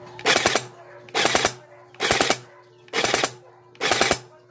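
A Bohan AR16 gel blaster toy rifle fires in burst mode, giving five evenly spaced bursts of rapid mechanical shots, each made of a few clattering cracks, close and loud over a faint steady hum.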